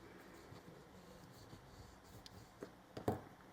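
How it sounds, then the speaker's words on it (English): A bone folder rubs along the edge of paper, rounding and shaping it for a floral craft piece, giving soft, close scratchy strokes that end in a couple of brief louder scrapes. "round and shape the edge of it with your bone folder"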